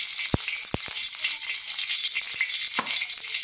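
Two spoons of ghee sizzle on a hot griddle that was just used to roast fenugreek flour, a soft steady frying hiss broken by a few sharp pops early on.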